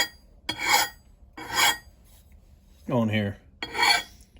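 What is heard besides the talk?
file sharpening an axe blade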